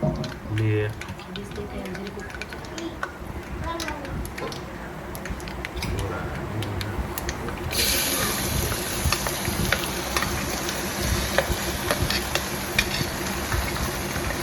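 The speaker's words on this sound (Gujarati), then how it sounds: "આ રીતે બધા શાકભાજીને આપણે તેલમાં એડ કરી દઈશું અને સરખી રીતે હલાવીને મિક્સ કરી દઈશું" Chopped vegetables for pulao frying and sizzling in hot oil with peanuts, stirred steadily; the hiss grows louder and brighter partway through, with faint speech underneath.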